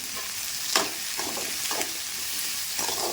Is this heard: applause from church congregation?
no